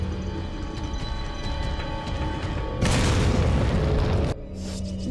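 A grenade explodes in the video game Resident Evil 4, a loud, close blast that erupts suddenly over a rumbling game background, roars for about a second and a half, then cuts off abruptly.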